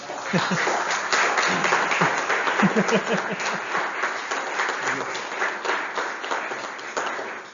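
Audience at a local heritage society talk on a historic manor applauds steadily, a dense crowd clapping that holds for several seconds and gradually thins toward the end.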